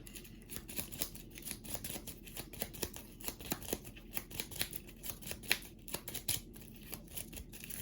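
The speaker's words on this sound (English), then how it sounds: "Shuffle the battle deck." A deck of board game battle cards is shuffled by hand in a dense run of quick papery riffles and flicks that keep going, fairly close and quiet.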